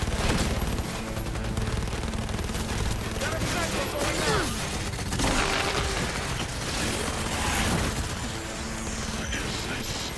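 Rapid automatic gunfire from the Blackwall gun during a boss fight with Smasher in the video game Cyberpunk 2077, a dense, loud, continuous barrage layered with mechanical game effects and music, with voices mixed in.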